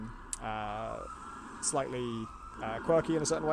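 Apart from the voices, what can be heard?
emergency vehicle sirens outside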